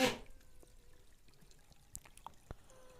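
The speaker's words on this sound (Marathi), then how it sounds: "मग आता बाटली भरून घेते" Water pours into a bottle being filled outdoors, a brief burst at the start followed by faint trickling and a few small knocks and drips.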